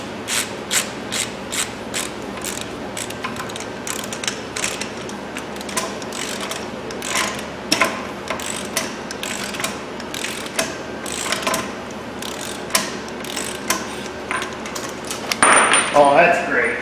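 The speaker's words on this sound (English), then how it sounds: "And then we just got to torque down the axle nut." A ratchet wrench clicks steadily while tightening the front axle nut on a Jeep Wrangler, loud and close, with a fast continuous rhythm of pawl clicks and a brief clattering burst at the end.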